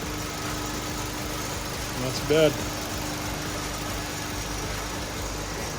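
An 8th-gen Honda Civic Si with a K-series engine idles in a garage, a steady low hum under a man's brief speech, with a short clunk partway through.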